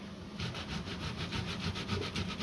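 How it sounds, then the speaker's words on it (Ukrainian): Rhythmic scraping of fresh tomatoes rubbed against a grater for a stuffed cabbage roll sauce, quick back-and-forth rasping strokes close by. "заливку я тру помідори"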